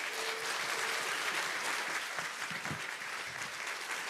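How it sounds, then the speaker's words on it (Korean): A church congregation at an autumn revival meeting applauds to welcome the preacher, sustained even clapping from a crowd filling the room at moderate distance. "오늘 나와서 말씀 전해 주실 때 우리 박수로 환영하겠습니다."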